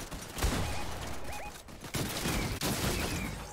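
Overlapping rifle gunfire from several players at once in a Fortnite match, bursts of shots rattling close and far in rapid clusters with brief lulls, game effects chirping in between.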